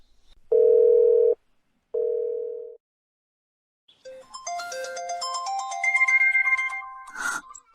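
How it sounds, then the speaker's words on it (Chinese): Two long electronic tones sound first, then a bright melodic ringtone plays with shifting notes, loud and close, ending with a sharp burst. "来电了，快快接"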